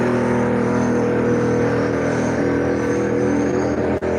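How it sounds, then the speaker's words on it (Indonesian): Loud, steady engine roar from a group of motorcycles passing close outside a house, a droning motor hum that holds constant with a brief dip near the end. "ini suara motor depan."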